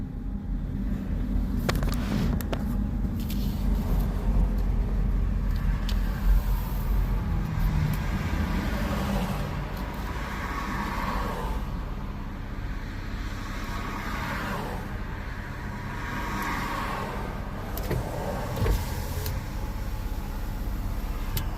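Steady roar of traffic on a main road in Waldport on the Oregon coast, with vehicles passing nearby, engines rising and fading over a constant low rumble.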